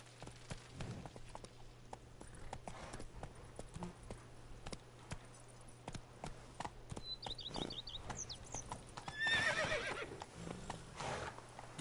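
A horse gallops in The Witcher 3: Blood and Wine, rapid rhythmic hoofbeats joined by a neigh near the end, with faint game sounds in the background.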